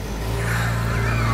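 A stainless steel Willys Army Jeep replica pulls away in first gear, its quiet engine droning steadily and lightly revving up close, with no talk over it.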